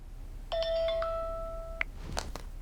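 A phone's electronic ringtone, a steady tonal chime with stepped notes, sounds once for about a second and a half in a quiet room before a few soft knocks and handling noises.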